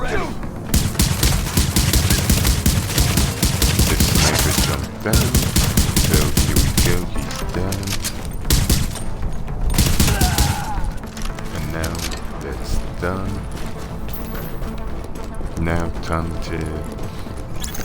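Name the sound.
gunfire in the video game The Division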